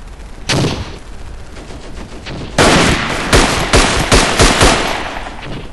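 Loud rifle and machine-gun fire in the First World War shooter Verdun, with a single sharp shot followed by a dense burst and several more cracks in close succession, nearby and harsh.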